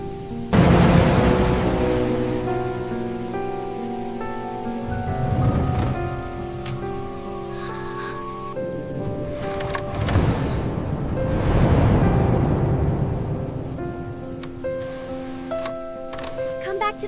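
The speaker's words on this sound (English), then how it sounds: "The storm's getting worse." A heavy nighttime thunderstorm over a forest cabin: steady loud rain with swelling rumbles of thunder, while voices and gentle music carry on over the downpour.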